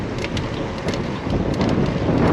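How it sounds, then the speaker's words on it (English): Strong wind gusting in a steady, loud roar that swells slightly toward the end, buffeting the microphone with no voices. "How strong that wind is."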